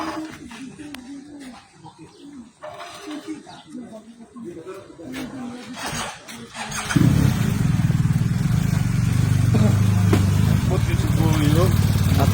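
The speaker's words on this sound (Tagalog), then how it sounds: "Napakalaking mga motor." Large motorcycles start up and run, their loud engine rumble taking over after a stretch of pigeons cooing and people talking.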